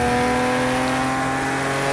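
Classic Porsche, likely an old 911, driving in Project Cars 2 on default setup: a loud, steady engine drone with a constant pitch and continuous road noise, alone without talk.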